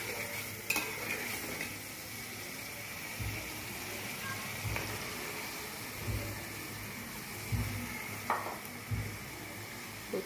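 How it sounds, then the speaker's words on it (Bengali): Taro stolons being stirred into a hilsa fish curry frying in a pot, a soft continuous sizzle with periodic dull thuds and scrapes of the spoon at an unhurried pace. "লতিটা দিয়ে দিলাম, ভালোভাবে মিশিয়ে নিচ্ছি।"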